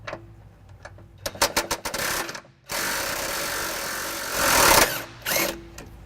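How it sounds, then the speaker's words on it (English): An impact wrench with an 18mm socket removes a bolt from the frame of a 2011 Jeep Liberty. Loud, close ratcheting hammer bursts come first, then a sustained whirring run that rises briefly and ends with a short final burst. "I'll be using an impact and an 18mm socket."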